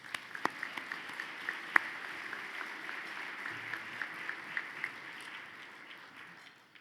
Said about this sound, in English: Please join me in applauding the efforts of this year's Fast 50 and emerging companies